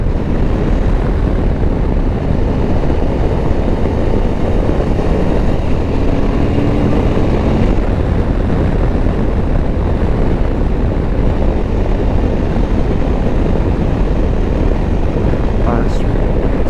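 Suzuki V-Strom 1050 DE motorcycle on the move, pulling away in first gear with a quick shifter; a steady, loud wind-buffeted engine drone runs throughout without letting up.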